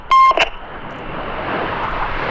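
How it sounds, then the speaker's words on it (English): Red Arrows jet aircraft passing at an air festival display, flying with the air brake out and high throttle; a loud roaring rush of jet noise follows a brief sharp electronic beep at the start, steady and broadband. "it makes the aircraft a lot noisier because the pilots are flying with a higher throttle"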